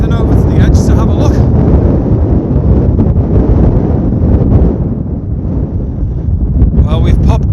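Strong, constant wind roars and buffets the microphone with a heavy low rumble, steady throughout, on an exposed hilltop edge at Illgill Head in the Lake District.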